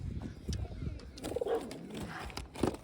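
Pigeons in a home loft of around fifty birds coo softly in low, rolling bursts, with faint voices and household noise in the background.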